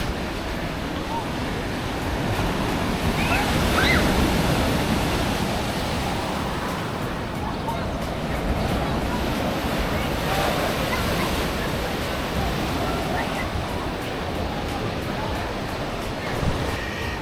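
Surf rolls onto a beach at Uluwatu, Bali, a steady broadband wash of breaking waves with wind buffeting the microphone, continuous and fairly loud throughout.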